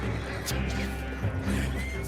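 A loud horse whinny rings out, followed by snorting and a few hoof sounds amid background noise in Red Dead Redemption 2.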